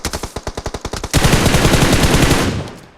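Rapid automatic gunfire in the mobile battle-royale game BGMI: a quick string of about ten separate shots, then a dense, loud, continuous burst that fades slightly at the end, with no talking.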